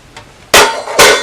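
A metal grill grate is set into a lightweight backpack bushstove, giving two sharp metallic clanks a moment apart, close and loud, after a faint tap.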